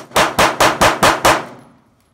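Ruger LCP .380 pistol fired rapidly, six sharp, loud shots in an even, quick rhythm, followed by a fading echo and silence.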